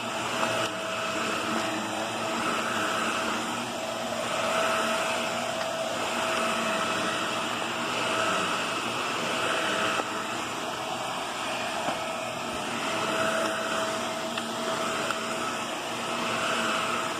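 A corded Shark Navigator NV22L upright vacuum cleaner drones steadily and loudly for the whole stretch, its airy motor whine barely changing as it's pushed around.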